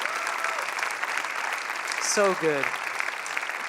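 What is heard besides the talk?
audience applause for conference speakers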